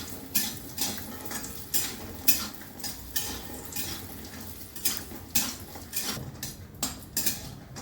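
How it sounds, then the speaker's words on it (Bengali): Bori, small sun-dried lentil dumplings, frying in a pan for a spinach ghonto, heard as soft rhythmic scraping and stirring knocks over a light sizzle, moderately quiet and close with no voices. "প্রথমেই আমি বড়িগুলো ভেজে নিচ্ছি"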